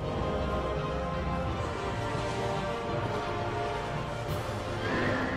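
Neighing from a two-headed horse boss in Dark Souls 2, a dense, loud whinny layered over a constant game soundscape for about five seconds, with hoof clatter mixed in.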